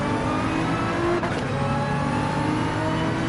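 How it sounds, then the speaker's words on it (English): A Nissan GT-R in the Gran Turismo 7 racing game, its engine note held steady and loud as it revs at high speed, a continuous whirring drone with no talk. "So the GTR, we can rev this thing out."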